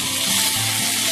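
Tomatoes cooked with coriander powder sizzle loudly and steadily in a hot pan while being stirred, a dense continuous frying hiss with no voices.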